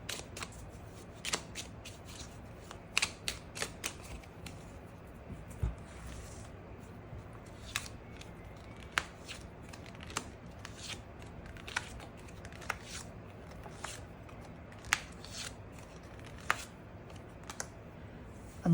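Tarot cards being shuffled and drawn, faint soft riffling and scattered crisp card snaps and taps at an irregular pace against a quiet room background.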